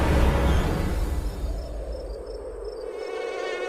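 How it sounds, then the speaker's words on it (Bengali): A thin, high insect whine like a mosquito hovers close against a low rumbling wind-like background in an eerie horror-story setting, with no speech. "শীতের বাতাস আর মশার পিনপিন শব্দ ঘিরে ধরেছিল আমাকে"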